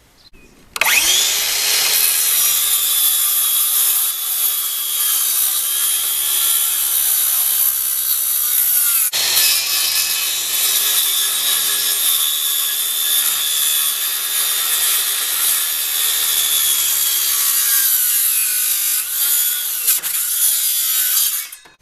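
A power saw cuts steadily through a wooden board for a garden bench, a loud continuous whine lasting about twenty seconds with a brief dip in pitch partway through.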